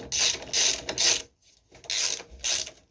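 A hand ratchet clicks in quick bursts while tightening bolts on motorcycle engine bars for a Honda NC750X. Two groups of rapid pawl clicks are separated by a short pause, close and fairly loud.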